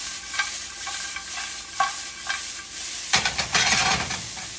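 Pre-cooked peas and vegetables stir-fried in a pan for veggie fried rice, a steady close sizzle with rhythmic spatula scrapes and tosses that grow busier and louder in the last second and a half.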